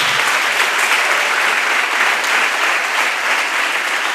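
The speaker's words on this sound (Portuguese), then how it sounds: "Vamos aplaudir aquele que vive e reina para sempre." A church congregation bursts into loud, sustained applause, dense and continuous clapping filling the room from start to finish.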